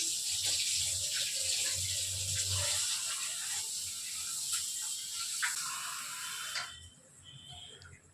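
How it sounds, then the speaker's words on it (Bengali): Rice is washed by hand under running water, with a steady splashing tap stream and a few soft knocks. The flow cuts off near the end, leaving quieter trickling. "হাতে চালটা ধুয়ে নিচ্ছি"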